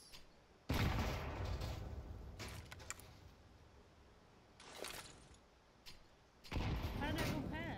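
Grenade blasts from the shooter game CSGO burst out in sharp, loud bangs separated by quieter stretches, with softer clicks and rattles between them and no voices over the explosions.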